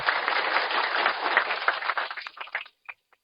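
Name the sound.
applause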